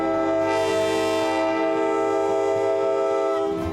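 A loud, sustained horn from the Great Smoky Mountains Railroad's Nantahala Gorge excursion train pulling out of Bryson City station blares steadily with rich harmonic tones, while a low rumble of rail machinery runs beneath it.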